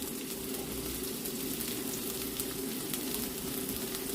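Carrots and beans sautéing in a pan for black kavuni rice noodles give a steady, even sizzle that runs unbroken and fairly close, with no voices.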